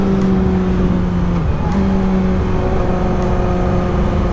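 A pink Nissan Altima drives by on the road, its steady engine hum and tire roar continuous and fairly close, with a slight pitch shift partway through as it passes.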